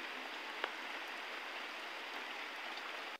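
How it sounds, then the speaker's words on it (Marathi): Heavy rain pours steadily on a farm, a dense, even hiss that holds without break for about three seconds, faint and distant, with one brief knock early on before it cuts off abruptly. "जोरदार पाऊस चालू झालाय"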